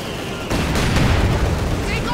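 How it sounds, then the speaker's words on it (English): An incendiary artillery barrage in the strategy game Company of Heroes 2 lands as a sudden heavy crash. Dense, rumbling booms and crackling fire follow, with a voice speaking over the battle noise. "incendiary artillery is going in"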